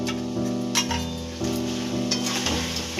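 Chicken frying in a pan with ginger paste, a loud, steady close sizzle broken by the clatter and scrape of a utensil stirring the pieces several times.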